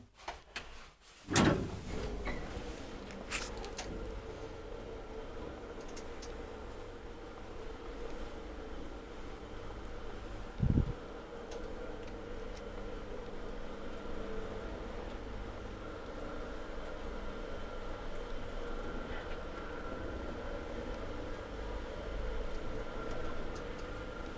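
Steady low mechanical hum and rumble of an old Kone traction elevator in motion in Lahti, Finland, with a couple of sharp clunks near the start and midway.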